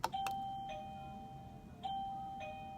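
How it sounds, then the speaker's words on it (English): A doorbell chimes with a two-note ding-dong, then rings again a moment later, clear and moderately close over faint background noise. "I really love the doorbell"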